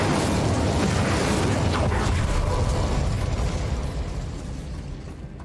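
An Incendio fire spell blast in Hogwarts Legacy, a dense roaring burst of flame with crackling texture, loud at first and slowly fading toward the end.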